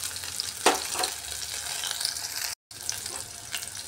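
Fish pakoras sizzle in hot oil with a continuous bubbling hiss and a couple of sharp crackles, broken by a momentary gap of silence partway through.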